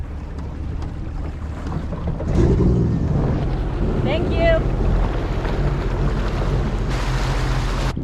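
A Sea-Doo jet ski sits on the water of Lake Travis, its engine rumbling low and steady under gusty wind buffeting the microphone, with one brief spoken phrase.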